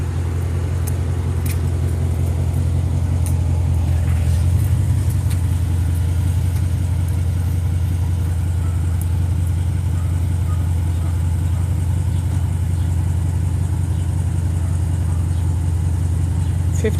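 2011 Dodge Durango Citadel engine running steadily, a constant low drone heard from inside with faint jingling and light rattles, no talking.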